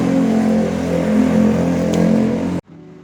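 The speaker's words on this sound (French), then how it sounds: "il y a beaucoup de voitures et trop de bruit" Steady roar of cars moving through street traffic in Ikeda, loud and continuous, cutting off abruptly near the end and leaving a quieter hum.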